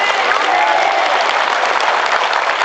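Congregation at a Catholic charismatic prayer gathering applauds together in steady, dense, enthusiastic clapping that fills the room throughout.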